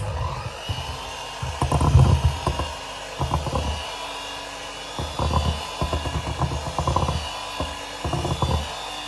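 An electric mixer whisks flour in a bowl, whirring in repeated short bursts with a motor hum and rattling beaters against the bowl.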